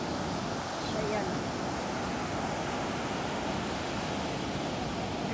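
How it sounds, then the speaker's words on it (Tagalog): Steady broadband roar of ocean surf at a Phuket beach where people are surfing, continuous wash of breaking waves with wind rumble and no clear gaps. "Grabe ang alon."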